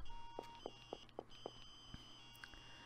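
An alarm in the video game The Crooked Man sounds a series of short, sharp electronic beeps at a steady pace. The beeps are fairly faint, with a few tonal blips alongside them.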